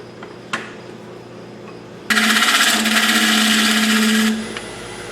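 A power tool cuts into black gum walnut wood, starting with a sharp knock, then a loud, dense, whining buzz that holds for about two seconds before winding down.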